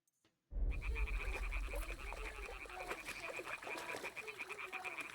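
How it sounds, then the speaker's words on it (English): Frogs croak in the Kingdom Come Deliverance 2 video game: after a brief silence, a continuous chorus of overlapping, rhythmic croaks begins and carries on steadily at moderate loudness. "Frogs. Hear that?"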